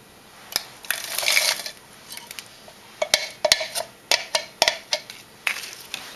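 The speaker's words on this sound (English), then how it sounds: "I'm going to add the 2 cups of artichoke, just frozen, and they were cut, you know, bite-sized pieces." Frozen bite-sized artichoke pieces clatter into a pan in a series of sharp clicks and taps, some in quick clusters, with faint sizzling between.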